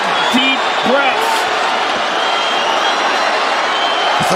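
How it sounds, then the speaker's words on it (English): Arena crowd at a UFC fight between Khabib Nurmagomedov and Conor McGregor in 2018, roaring loudly and continuously with cheers and whoops, while a commentator talks over the din. "Crowd goes bananas as McGregor gets upright"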